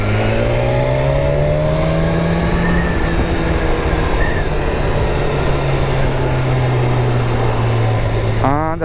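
A car drives past close by, its engine noise swelling and then fading against heavy road rumble. No one speaks.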